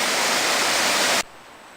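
The Coal Creek river rushes beside a trail as a loud, dense, steady wash of flowing water, which cuts off abruptly partway through.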